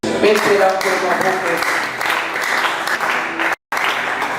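A church congregation at a Sunday service applauding, dense sustained clapping from many hands with voices mixed in, loud and close, cut by a brief dropout near the end.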